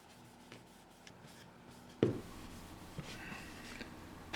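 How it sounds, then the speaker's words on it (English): Sanding a part to a matte finish produces quiet, intermittent scratchy rubbing strokes, with a sharper knock partway through and no talking. "So again, sanding everything matte"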